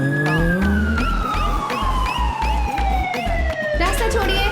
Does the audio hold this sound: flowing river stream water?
no